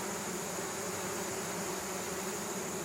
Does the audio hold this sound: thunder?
no